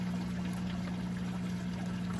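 Water gurgling through a bell siphon in a backyard pond tank at night, a steady pouring, bubbling flow with a low constant hum beneath it.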